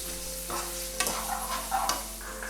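Chicken 65 gravy is stirred and mixed in a pan, a soft sizzle under a few distinct scraping stirring strokes of a utensil close up.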